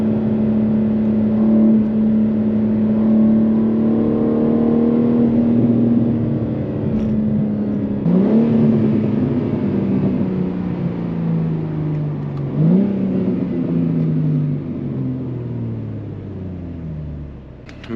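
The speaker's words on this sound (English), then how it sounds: "it feels magnificent when it picks up, when it starts spooling the turbos." A 700-horsepower twin-turbo Genesis G80 pulls hard from inside the cabin, a loud droning engine tone sliding lower, with two sharp shift or throttle breaks midway before the note carries on and slowly fades.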